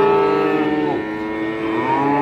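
A single cow moos loudly and close by at a cattle market, one long sustained low call with a slight pitch dip midway, heard alone with no talking.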